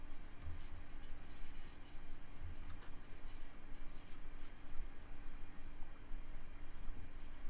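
Commuter train from Train Simulator Classic's Class 465 Blackfriars to Sevenoaks route rumbling past with steady rail noise and a constant low hum, moderately loud throughout with no speech.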